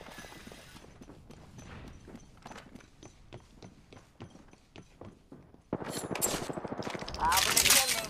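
Gunfire in the video game Apex Legends: scattered single shots during the first stretch, then a loud, dense burst of rapid automatic fire with sharp cracks near the end.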